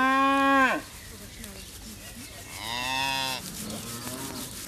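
A miniature cow moos loudly and close by in two long, drawn-out calls separated by a brief pause, with quieter low sounds in between.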